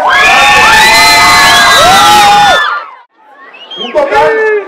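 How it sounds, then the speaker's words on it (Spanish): Audience at a Reality Rock 2011 awards event in the Chihuahua region cheering and whooping loudly for five participating rock bands, a dense roar of shouts that drops off, then a second burst of excited yells. "quiero que le demos un fuerte aplauso a las cinco bandas"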